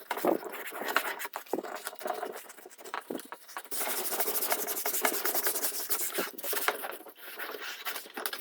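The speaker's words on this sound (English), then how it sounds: "I'm just using one of those automotive trim removal tools with a very blunt end" A blunt automotive trim removal tool rubs and scrapes across a custom upholstery panel for a 1940 Ford-inspired interior, a close, continuous dry scuffing with irregular strokes and brief pauses.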